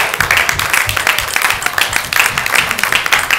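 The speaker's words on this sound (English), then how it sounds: "Round of applause for Debbie Harris and everybody" A studio audience claps together in a steady burst of applause. The sound is dense and continuous, stays fairly loud and even, and carries on for a few seconds with no voices above it.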